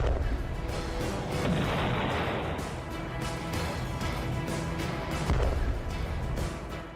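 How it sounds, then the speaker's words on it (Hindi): American-supplied artillery cannons firing in the Ukraine war, heard as a loud, continuous wall of rumbling blasts and crackling booms that runs through the whole stretch with no break and no voices. "अमेरिका की फौज नहीं, लेकिन उसकी तोप इस वक्त यूक्रेन की जमीन पर लड़ने लगी है"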